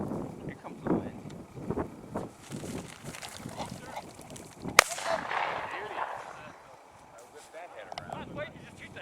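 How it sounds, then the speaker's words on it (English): Wind gusts across the microphone at an outdoor pheasant hunt, a rushing broadband roar that swells in the second half, following talk and one sharp crack near the middle. "Here comes the wind."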